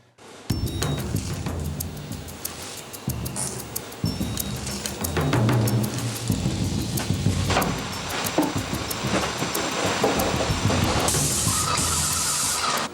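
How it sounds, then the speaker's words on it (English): A paint-type sprayer hisses steadily as it sprays cleaning solution onto walls inside a family home, with near, continuous spraying, clinks and knocks of equipment, and a brighter burst near the end. "they're actually going to use a cleaning solution and a sprayer"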